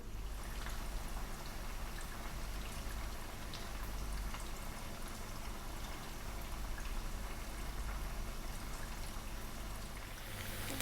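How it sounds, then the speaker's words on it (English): Chunky boiled potatoes fry in hot corn oil, giving a steady, dense sizzle and crackle that holds evenly throughout with no talking over it. "We're now going to fry them off in some hot oil."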